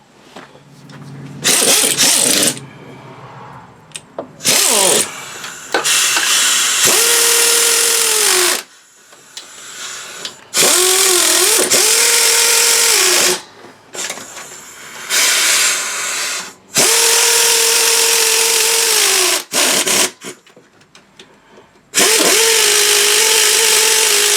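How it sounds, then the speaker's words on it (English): Pneumatic air tools run in repeated bursts, whining and rattling loudly with pauses between, while work continues on the intake manifold and timing cover gaskets of a 2009 Buick LaCrosse engine. "if I can find my adapter hose, I use the air tools"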